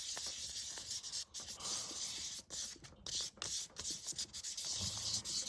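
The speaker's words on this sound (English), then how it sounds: "that was not that much sanding" Continuous close scratchy rubbing of sandpaper over a small hard polymer clay pendant, in quick back-and-forth strokes with brief pauses.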